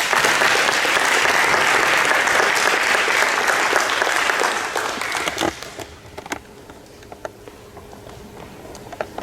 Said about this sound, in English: will y'all give Carly a round of applause?